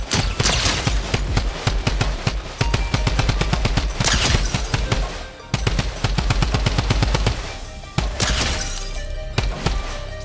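Rapid automatic gunfire in the video game Fortnite, loud sustained bursts of shots in quick succession with brief pauses between volleys, close and dominating with no talk.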